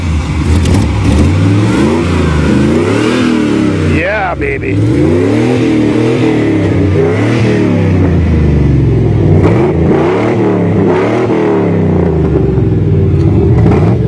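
High-output V8 engine in an Astro van rumbling loudly nearby, with repeated throttle revs rising and falling over a deep idle; a man briefly exclaims partway through.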